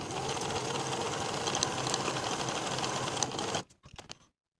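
A sewing machine runs steadily, bastes the long raw edges of a knit jacket collar together, then slows with a few last stitches and stops. The motor whir is close and continuous.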